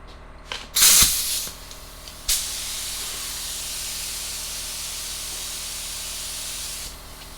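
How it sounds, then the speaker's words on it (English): Spray gun laying a medium-wet coat of 2:1 high solids clear over custom paint, short hissing bursts followed by one long steady spray pass, close and loud, ending abruptly. "The clear I'm putting on right now is High Solids clear."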